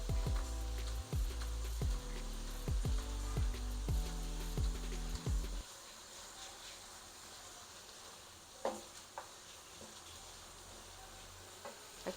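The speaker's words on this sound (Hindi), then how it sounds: "मसालों को भी थोड़ा सा फ्राई करेंगे" Whole spices, white cumin and black peppercorns, fry in oil in a pot for beef kaddu with bottle gourd: a faint, steady sizzle with a few soft crackles and pops, heard after a stretch of background music fades out.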